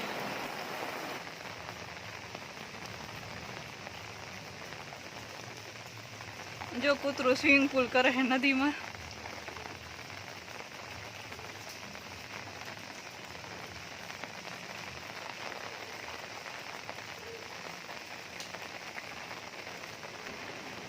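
Steady heavy rain patters outside where water has flooded the surroundings, a soft continuous wash under a voice speaking briefly, with a short louder burst of sound near the start.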